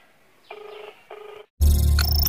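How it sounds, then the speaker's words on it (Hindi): An incoming call makes a mobile phone ring, with a couple of soft buzzing pulses at first and then a sudden loud, bright ringtone that plays on to the end. "अरे यार भाई का कॉल।"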